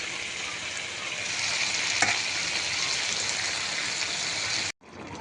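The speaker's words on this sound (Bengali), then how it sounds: "গাছের সিম দিয়ে আলু দিয়ে এই মৃগেল মাছ এগুলি ভেজে রাখছি।" Mrigal fish pieces, flat beans and potatoes frying in hot oil: a loud, continuous crackling sizzle that stays even throughout, with one brief sharp pop, before it cuts off abruptly near the end.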